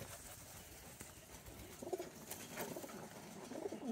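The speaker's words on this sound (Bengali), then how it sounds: "এটা একটা মাদি কবুতর।" A female pigeon coos softly in short, low murmurs, fairly close, against a steady background hum.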